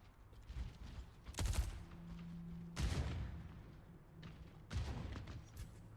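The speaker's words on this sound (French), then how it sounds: "Ça tire à balles réelles, hein" Gunfire in the video game Overwatch 2 during a scrim, with three or four loud bursts spaced a second or so apart over faint game background, and no talk.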